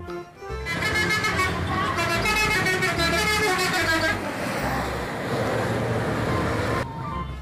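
A bus horn honks in a long, loud, melodic tooting pattern for several seconds, then fades into steady road and engine noise before cutting off.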